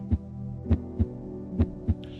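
Rhythmic heartbeat, five deep thumping beats at a steady pace with a low hum between them, close and muffled, with no voices.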